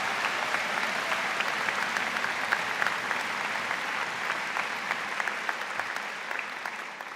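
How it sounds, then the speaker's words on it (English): Crowd at a spring university graduation convocation giving a round of applause, a dense, steady wash of many hands clapping, moderately distant and continuous before fading slightly at the end. "Can I have a quick round of applause for all of these wonderful people?"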